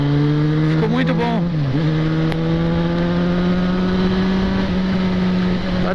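A Yamaha XJ6 motorcycle on Michelin Pilot Street tyres hums steadily at cruising speed over a bumpy road, close by, while a voice speaks briefly over it.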